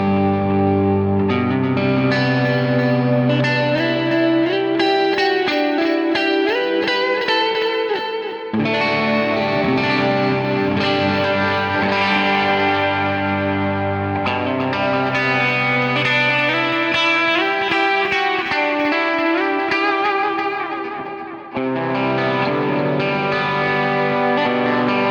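A Revolta electric guitar plays through a Dr. 80 amp capture on a GP5 multi-effects pedal, loud and continuous with chords and melodic lines washed in chorus, delay and reverb, no talk.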